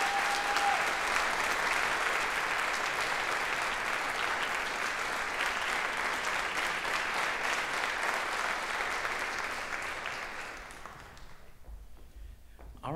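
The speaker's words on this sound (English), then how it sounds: "Let's give him a round of applause." An audience at a middle school jazz ensemble concert claps in sustained, dense applause for about ten seconds before it thins out and fades into a quiet room.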